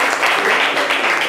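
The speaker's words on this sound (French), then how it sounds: "Applaudissez-le un peu, ça lui donne un peu d'énergie" Brief, dense applause from an audience at a live talk show, steady and fairly close, without pauses.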